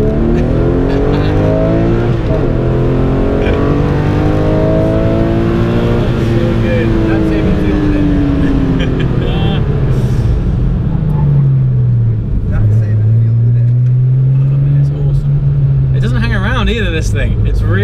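A supercar engine roars and revs hard, pitch rising and falling through gear changes as it accelerates, loud and close throughout.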